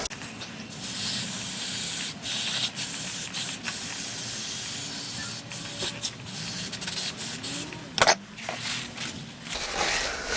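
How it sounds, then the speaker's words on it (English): Brake and clutch cleaner sprayed to rinse a worn, leaking oil filter housing on a 2007 BMW 3 Series E90, giving a steady close hiss with rubbing and handling noises throughout and a sharper burst near the end. "I'm just gonna rinse this with a bit of brake and clutch fluid."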